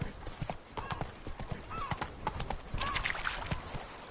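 Geralt's horse Roach galloping in The Witcher 3: rapid rhythmic hoofbeats with a brief whinny, moderately loud against game sounds, while a voice speaks briefly.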